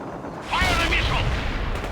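A missile launches in World in Conflict with a sudden loud whooshing boom and a rushing roar that lingers for a second or two, mixed with battlefield radio chatter.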